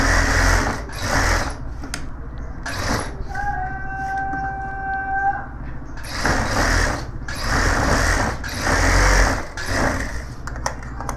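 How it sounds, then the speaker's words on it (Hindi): A sewing machine runs in long steady bursts, double stitching the front pocket of a gents suit, with a brief pause and a faint tonal hum in the middle; close and continuous with no talking. "ये डबल सिलाई है तो हम डबल सिलाई करेंगे फ्रंट जेब पे भी।"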